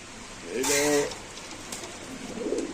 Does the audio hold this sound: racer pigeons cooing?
yes